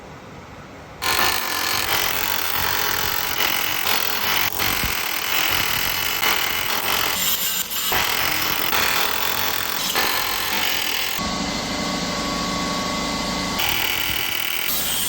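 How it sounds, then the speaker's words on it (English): Power-tool work removing rivets from the front suspension of a Chevy C10 truck, a loud continuous grinding and buzzing racket that runs nearly without pause, close up with no speech. "We got all 4 rivets out of there."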